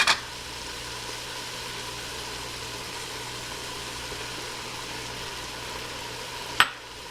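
Onions and flour cooking together in a pan for an Irish shepherd's pie, a steady low frying hiss throughout with a sharp clink of the stirring utensil at the start and another near the end.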